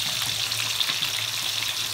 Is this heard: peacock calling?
no